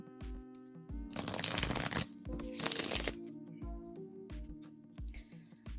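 Tarot cards shuffled by hand in repeated bursts, loud crisp riffling and slapping sounds close by, with brief pauses between rounds and no talking.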